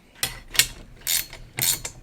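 Ratcheting wrench tightening wheel bolts on an engine stand, four quick bursts of metallic clicking, close and fairly loud, separated by short pauses.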